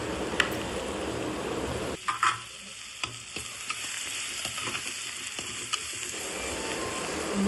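Ginger garlic paste and tomato sauté in a hot pan for chicken kozhambu, giving a close, steady sizzle. The frying drops in level partway through, with utensil scrapes and clicks from stirring.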